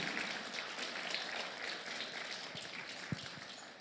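A church congregation claps together in a soft, steady patter of applause that sounds distant and faint, with a single sharper clap near the end.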